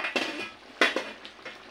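A metal lid is set back onto a cooking pot. Two sharp clanks sound close by, followed by lighter rattles as it settles.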